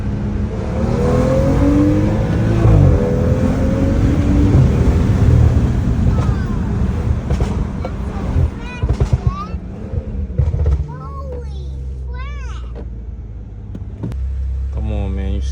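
A tuned BMW F10 with a stage 2 engine and transmission tune, xDelete and upgraded charge pipe and intercooler, near 500 horsepower, revs loud and close under steady engine roar, with people talking over it and a drop in volume near the end.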